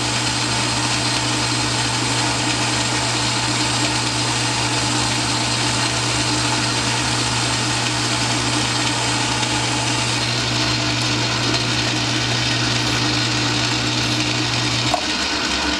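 A machine tool spindle runs while cutting metal, giving a steady, loud motor hum with a constant grinding, hissing cutting noise. The tone drops right at the end, and there is no talking.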